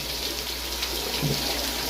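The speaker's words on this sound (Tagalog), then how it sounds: "Bagong tubig kasi papasok dito." Fresh water pouring steadily into a small 21 sqm biofloc tilapia pond, a continuous close splashing rush with no pauses.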